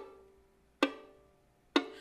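Two dull plucked notes from a beginner's violin with fingers not pressed firmly into the string, giving a muffled, buzzy tone; each note fades quickly, quiet and alone.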